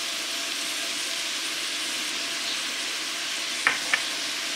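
Beef coated with flour, salt and pepper fries in a pot for Boeuf Bourguignon, giving a steady, even sizzle throughout with two brief clinks near the end.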